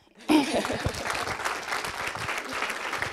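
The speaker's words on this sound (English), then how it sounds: "Now you can round of applause for them." Audience applause for school board candidates at a district forum, starting abruptly after a moment of quiet and settling into steady clapping, with a faint chuckle or murmur in the crowd.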